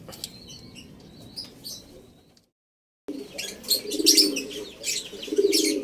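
Racing pigeons at a derby loft coo and flap their wings, soft calls and rustling giving way after a brief silence to louder, busier wingbeats and chirps close by.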